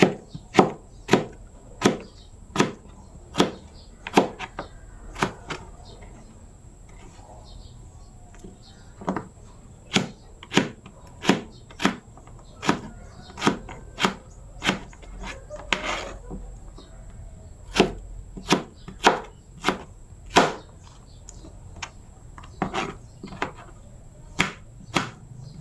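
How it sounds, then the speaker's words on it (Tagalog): Chayote being chopped with a knife on a board, a long series of sharp, close knocks at an uneven, mostly steady pace with brief pauses, over quiet room tone. "hiwain na po natin itong sayote"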